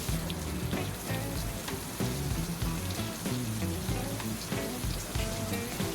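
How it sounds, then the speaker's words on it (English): Butter sizzles and crackles steadily in a hot pan as it is spooned over shrimp with a bouquet garni, a dense, close frying hiss with irregular spitting pops running throughout, no voices. "When you start the basting, make sure you spoon that butter on top of the shrimp and the basting bouquet garni"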